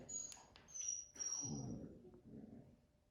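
A dog whines in short, high-pitched bursts, close by, with a few soft yips between them and no talking.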